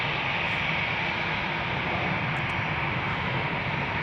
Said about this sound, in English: moaning as the engines are spooling up.